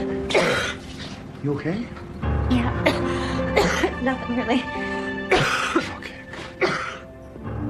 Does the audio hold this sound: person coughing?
yes